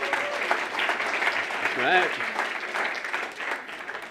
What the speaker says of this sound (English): give them a round of applause for showing up and doing this